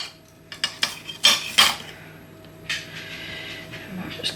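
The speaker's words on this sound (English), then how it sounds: "Just cut them in half." A knife cuts vegetables in half for rainbow couscous. A handful of sharp, close chops land on a board in quick succession, followed by softer rustling and handling noise with no speech.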